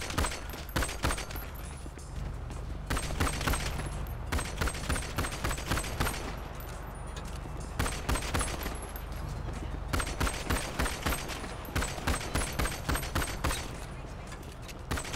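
Rapid gunfire rattles in a video game as a horse is shot, sharp repeated bursts in fast clusters over a constant noisy game background, loud and close.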